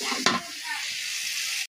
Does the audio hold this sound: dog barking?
no